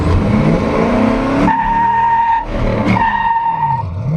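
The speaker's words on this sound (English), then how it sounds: "We're gonna do a dig real quick. I need to warm my tires up." A car does a quick burnout to warm its tires before a drag race, loud engine revving with sharp tire squeal in several bursts, close and alone.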